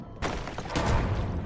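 A grenade blast in the video game Crow Country bursts out loud and sudden, followed by a rolling, crackling rumble that fills the rest of the moment.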